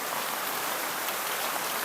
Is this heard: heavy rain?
yes